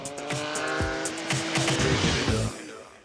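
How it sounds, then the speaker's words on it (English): A loud motorcycle exhaust howls and revs in rising and falling bursts, harsh and close, with no pauses. "all backed up by a howling exhaust note that is as addictive as it is spine-tingling"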